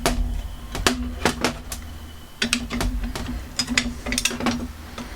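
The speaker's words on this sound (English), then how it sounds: "what I can do is hit it with a screwdriver and have a look" A screwdriver works at the mechanism of an old antique rim lock, giving a string of sharp metallic clicks and ratcheting taps at an uneven rhythm, close and fairly loud.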